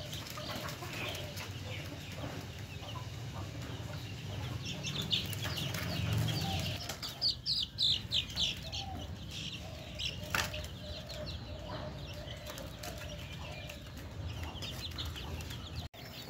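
Young chicks cheep and chirp in a steady chorus while they get a Ranikhet vaccine, with soft wing flutters and scuffling close by. No voices are heard.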